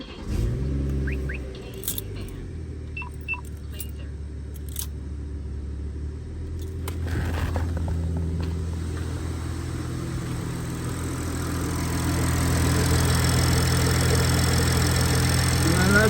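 A 2019 BMW 540i (G30) engine starting up after a spark plug replacement, then settling into a steady, close idle hum that grows slightly louder toward the end, with a brief jangle of keys.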